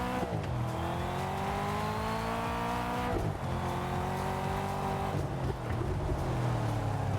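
An Alpine sports car driven hard like a rally car in TDU: Solar Crown, engine droning loud and steady with rising pitch sweeps at each gear change and tire squeal running through, no voices.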